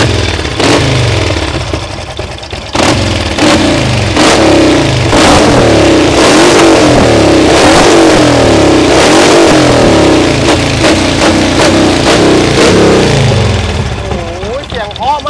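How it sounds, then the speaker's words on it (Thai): A Harley-Davidson Street Glide bagger engine rumbles and revs up and down in loud, sustained bursts close by, with someone talking over it. "ฟังเสียงเครื่องหน่อยมั้ย ครับผม ปาทีเดียวติดครับผมง่าย"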